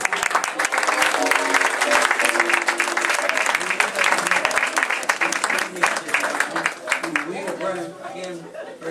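Audience applause on a CBS Radio Network broadcast, loud and dense, with voices and crowd chatter mixed in throughout.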